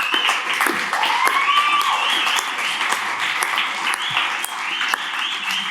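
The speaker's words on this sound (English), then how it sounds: "Give them a big round of applause, guys." Audience applause closing a panel discussion on ART, Kinetisense and RockTape, steady dense clapping that carries through the whole stretch, with a faint cheer or whoop rising above it near the start.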